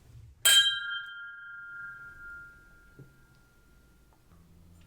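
Glasses of blended whisky clink once in a toast, a bright ringing chime that decays slowly over a few seconds in a quiet room, with faint movement afterward.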